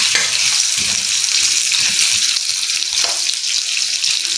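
Potatoes frying in hot oil in a pan, a steady dense sizzle with crackling, loud and close throughout with no talk.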